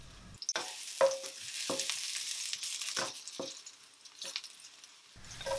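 Chopped vegetable stems hit a hot wok with oil, garlic and ginger, then a continuous crackling sizzle with repeated clanks and scrapes of stir-frying, close and fairly loud with no voices.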